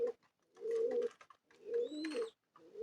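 Domestic country pigeons coo in short, throaty bursts separated by gaps, close and fairly quiet, with a few sharper notes mixed in as the birds squabble.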